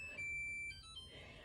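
A kitchen timer beeps with a thin, high electronic tone for about half a second, fairly clear over a quiet room hum, with no talking.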